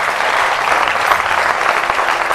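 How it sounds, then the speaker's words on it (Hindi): A live studio audience at a televised Ramadan broadcast applauds a car prize winner with loud, continuous clapping from start to finish. "बहुत सारी तालियां इनके लिए होनी चाहिए जनाब"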